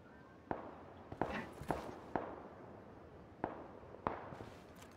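Distant gunfire in the video game PlayerUnknown's Battlegrounds: several faint, sharp cracks scattered irregularly over a few seconds, far away and quiet against a soft background.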